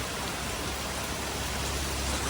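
Heavy rain falls at Maligaon station in Guwahati, a steady, even hiss of downpour with no pauses and no voices.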